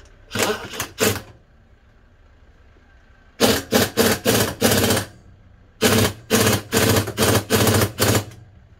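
A pneumatic impact wrench hammers in repeated loud bursts on a TDI engine during restoration, short rattling pulses grouped in sets with pauses between, close up.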